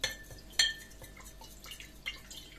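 A spoon stirs salt into warm water in a glass jar, giving a few light clinks and scraping taps against the glass with a faint liquid swish, close and quiet.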